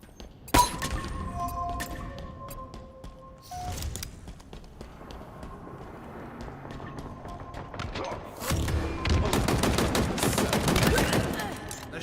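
Machine gun fire in a Halo Infinite match comes as scattered sharp bursts and impacts, with a sustained heavy barrage near the end amid other game effects and tones.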